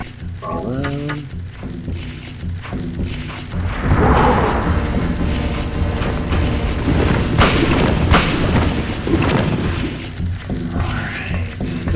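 Gunfire in Silent Hill 1 in the sewers: a heavy boom followed by sustained rumbling, thudding game noise and ambience, loud and dense throughout.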